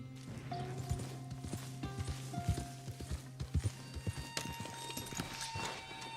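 Horse hooves clip-clopping in a video game, a steady run of soft hollow clops under a constant low hum and faint tones, fairly quiet throughout.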